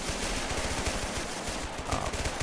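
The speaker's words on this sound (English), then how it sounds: "We have a lot of French machine guns and all kinds of small arms fire" Rapid machine gun bursts mixed with scattered small arms fire in a war video game, the French machine guns chattering in a fast, regular rhythm under a constant loud battle din.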